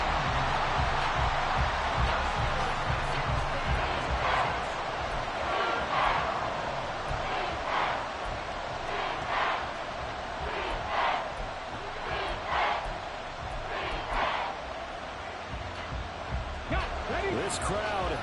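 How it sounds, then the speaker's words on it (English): A football stadium crowd roars and cheers in a sustained, loud wash of voices, swelling and surging throughout while a commentator talks over it. "This crowd turning up the decibel level."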